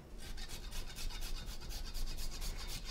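Whole nutmeg scraped against a grater gives rapid, rhythmic rasping strokes, about four per second, close up and steady in a kitchen with no voices.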